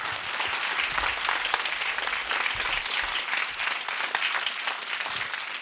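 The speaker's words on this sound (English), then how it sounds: "Another round of applause, please." A large audience claps steadily after a piano performance at a school spring music concert. The full, dense applause runs unbroken from start to end at an even level.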